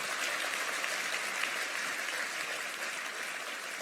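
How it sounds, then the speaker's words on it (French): An audience at a church gathering applauds, a steady, even wash of many hands clapping, soft and somewhat distant, with no break. "on donne un gros applaudissement à toute cette équipe de King et d'Internet"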